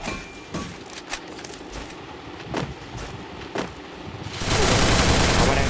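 Gunfire in the Free Fire video game during a custom match: a few separate sharp shots ring out spaced apart, then a loud sustained burst erupts at the end, with no talking.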